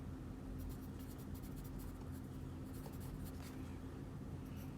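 Numbers are handwritten for a math sets problem, making quiet, close scratchy strokes in short bursts over a low background hum.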